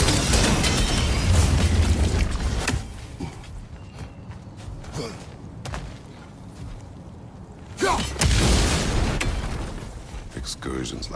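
An explosion in God of War Ragnarok erupts as a loud, rumbling boom, followed by a quieter stretch and a second heavy blast, with voices talking amid the game sounds.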